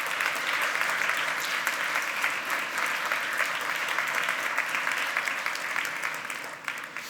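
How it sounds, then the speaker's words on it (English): Steady, full round of applause from a conference audience recognizing engineers and designers at a B2B customer portal presentation, dense clapping holding for about seven seconds before easing slightly at the end. "Go ahead and give them a round of applause."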